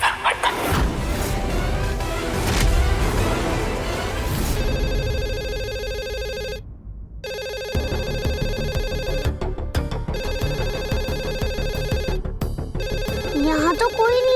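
A telephone rings loudly and continuously, an electronic ring repeating with brief gaps, close and persistent throughout.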